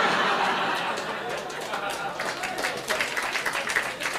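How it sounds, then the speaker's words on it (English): A Scottish crowd breaks into a round of applause and chatter, the dense clapping fading and thinning over a few seconds amid murmuring and scattered laughter. "the round of applause for the mention of a fry-up"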